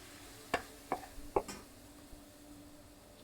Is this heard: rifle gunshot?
no